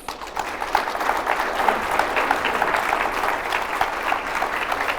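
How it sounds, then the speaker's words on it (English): Audience at a farm and ranch stress summit in South Dakota applauds a keynote speaker; steady, dense clapping from a sizable crowd fills the room without pause. "can we give her a round of applause?"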